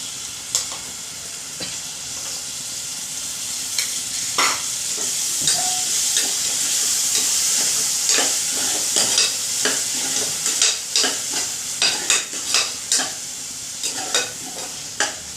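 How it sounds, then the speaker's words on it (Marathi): Onion, coconut and tomato paste frying with prawns in a pan, a steady sizzle under repeated scraping stir strokes that quicken into a rapid clatter toward the end. "आणि हे कांदा खोबरं आणि टोमॅटोचं वाटण केलेलं आहे ते टाकायचं आहे याच्यामध्ये"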